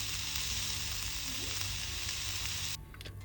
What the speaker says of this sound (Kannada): ಸ್ವಲ್ಪ ಡ್ರೈ ಚಿಲ್ಲಿನೂ ಅದೇ ಥರ ರೋಸ್ಟ್ ಮಾಡಿ ತೆಗೆಯುವ.